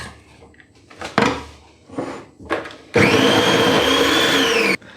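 A food processor with a grater blade fitted and the lid on shreds vegetables, a loud steady motor whir lasting almost two seconds and preceded by several clunks and scrapes of parts being handled.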